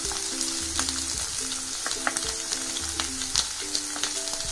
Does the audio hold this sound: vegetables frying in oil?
yes